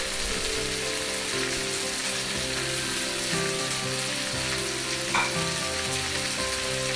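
Curry leaves and frozen mushrooms sizzle in hot oil for a scrambled egg and mushroom devilled dish, a steady close crackling fry with a brief louder spit partway through and no talking.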